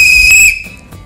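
A single loud referee-style whistle blast, sharp and shrill, holds for about half a second to start a wine-pouring challenge, then gives way to quiet room tone.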